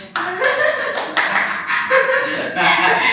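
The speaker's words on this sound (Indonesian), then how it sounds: "Tepuk tangan dong" A small group of people clapping their hands in a bright, continuous burst of applause that swells and dips over a few seconds, mixed with voices talking and laughing over it.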